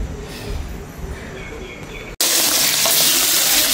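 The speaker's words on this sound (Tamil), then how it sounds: "இறால் வந்து பொரிக்கிறோம்" Whole cleaned prawns frying in hot oil, a steady loud sizzle that cuts off briefly and then returns brighter and harsher, close by with no talking.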